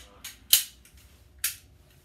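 A WeTech Glock 34 gas blowback airsoft pistol fires three sharp snapping shots at uneven intervals, the second the loudest, close by in an otherwise quiet room.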